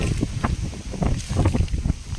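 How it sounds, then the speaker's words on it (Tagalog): Strong gusty wind buffeting the microphone, a continuous low rumbling roar with no voices. "Pasensya na po sa sound, malakas lang ang hangin."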